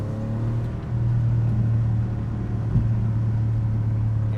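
A Porsche 964 Turbo with larger brakes is driven hard along a back road, its engine a steady, loud, continuous drone heard from inside the car without a break.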